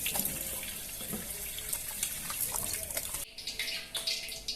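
A kitchen tap runs steadily into a sink while hands are washed, a bright continuous close-up splash that shifts and breaks into uneven spatters near the end, with no talking.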